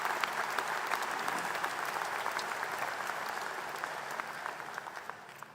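Sustained audience applause at a university president's inaugural address, a dense steady wash of clapping from a large crowd that holds throughout and tapers slightly toward the end.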